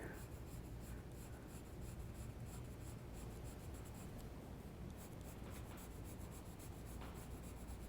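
A pencil drawing lightly on paper while shading a horse head and neck portrait, giving a continuous soft, close scratchy rub with steady light strokes and no talk.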